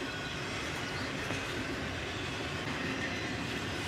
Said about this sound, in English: A southbound autorack train, led by a couple of Jeebos with an ES40 DC in the lead and an ES44